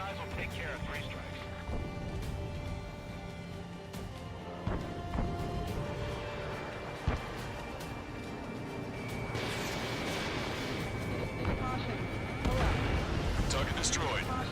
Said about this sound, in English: The artillery fire's got a number on my hearing.